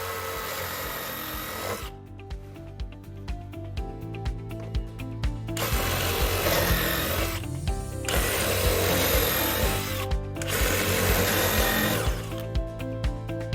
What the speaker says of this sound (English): And then you just go ahead and drill your shelf pin holes.